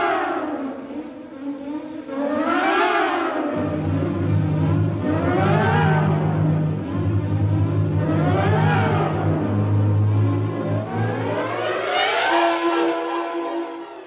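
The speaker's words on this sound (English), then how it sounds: "Somehow the engine coughed and spit us back to the station." Radio-drama sound effect of a space capsule engine starting up and running steadily, a loud continuous whirring drone with rising and falling swells and a deep low hum that sets in after a few seconds, with no talk.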